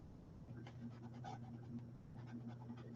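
A 12-year-old dog pants steadily in quick, soft breaths close by, at a faint level, with no talking.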